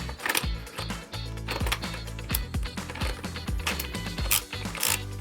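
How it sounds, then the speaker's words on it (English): A muzzle brake is threaded onto a suppressor attachment, making a close, busy run of small metallic clicks and ratcheting scrapes. "the muzzle brake obviously screws onto the barrel"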